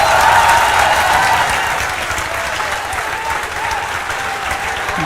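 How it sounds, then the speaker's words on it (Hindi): Loud, dense applause from a room full of people, steady and sustained, easing slightly after the first moments. "जोरदार तालियां होनी चाहिए।"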